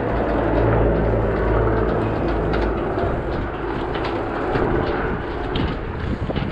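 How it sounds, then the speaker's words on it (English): Helicopters fly low overhead, a loud, steady rotor and engine roar filling the clip, constant throughout with wind buffeting. "There's a third one just dropped. Two helicopters now."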